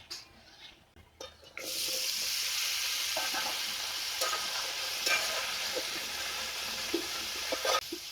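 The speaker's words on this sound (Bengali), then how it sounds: "মাছ ভাজার তেলে এখন ওলগুলোকে ভেজে নেবো" Pieces of elephant foot yam fry in oil left over from frying shoal fish. After a quiet start with a few clinks, a loud, steady sizzle sets in, broken by occasional stirring and scraping sounds.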